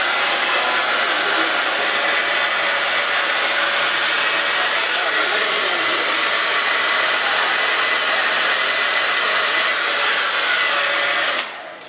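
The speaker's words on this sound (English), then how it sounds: "I'm using the Conair 1875 blow dryer, and it came with a diffuser. So, and I put it on high" A Conair 1875 blow dryer with a diffuser runs on high, a steady loud whooshing roar that holds unchanged for the whole stretch before cutting off at the end.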